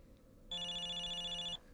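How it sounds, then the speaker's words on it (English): A mobile phone rings inside the video game Zenless Zone Zero, a single steady electronic ringtone burst lasting about a second, clear and fairly loud against a quiet background. "I can hear someone's phone ringing from her back."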